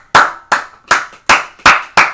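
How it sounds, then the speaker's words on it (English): A single pair of hands clapping close by, six sharp, evenly spaced claps with short gaps, loud and isolated with no talk over them. "Big round of applause for Kizo, everyone."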